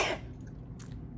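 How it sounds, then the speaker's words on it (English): A single sharp sneeze bursts out at the start, loud and close, followed by quiet room hum and a faint soft click. "I'm going to sneeze now."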